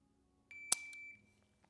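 A single electronic beep from a shooting timer during dry-fire trigger practice, a steady high tone lasting about half a second, with a sharp click at its start and a faint tap after.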